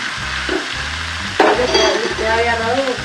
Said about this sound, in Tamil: கோவக்காய் சேர்த்து இது எண்ணெயிலே நல்லா வதங்கிட்டு